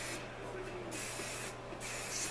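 Hair spray from an aerosol can hisses in two bursts, each under a second, close to the microphone and fairly quiet, during hair styling after curling with a straightener.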